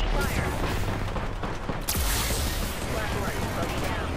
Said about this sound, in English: Opening fire. Taking fire.